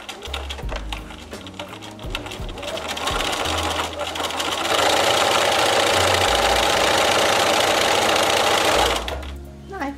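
A sewing machine stitching an eyeglasses case, starting with short bursts of stitching, then running in a long continuous loud whir before stopping; a person talks over the start.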